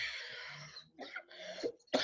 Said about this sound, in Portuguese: Ai, esse tosse alérgico.